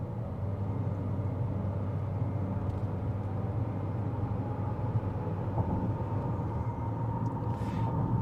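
Inside a 2026 Chevrolet Equinox, the 1.5-litre engine with a CVT runs at half throttle, making a constant, muffled low rumble and road drone with no change in pitch.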